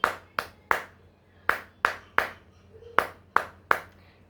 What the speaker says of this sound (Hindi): तालियां कई तरीके से बजती हैं, ऐसे ऐसे ऐसे ऐसे भी बजती है।